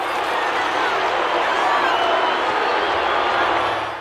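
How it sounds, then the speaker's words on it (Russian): A stadium crowd at a sprint race shouts and yells in a loud, continuous, dense roar that holds steady throughout, with a voice talking over it. "Толпа недовольна и кричит."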